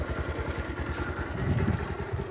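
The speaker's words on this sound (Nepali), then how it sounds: "यो साँगुरो बाटोबाट हामीले बाइक तार्ने कोसिस गर्नेछौँ" A motorbike rides along a narrow road badly damaged by a large landslide, its engine chugging in a steady, fairly close, even rhythm with no talk.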